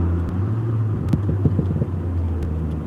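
A car's exhaust crackles with a rapid burst of pops and bangs under a deep engine rumble as it passes along a Southport seaside street at sunset, fairly close and loud.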